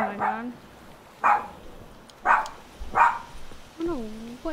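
A dog barking in The Witcher 3 video game, five sharp separate barks spaced about a second apart, fairly close and loud.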